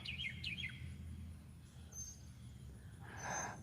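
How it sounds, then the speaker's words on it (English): A bird sings from the top of a telephone pole, giving a few quick descending chirps near the start and a softer call later, outdoors over a steady low hum of background noise. "it's up there and it's doing all that singing right now."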